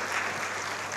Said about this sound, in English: Everyone clap for Murray